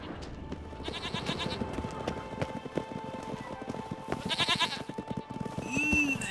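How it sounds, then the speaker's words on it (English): Goats in The Witcher 3 bleat over a steady backdrop of clip-clopping hooves and game ambience, several calls rising mid-way and near the end at moderate loudness. "these fucking goats blocking the way?"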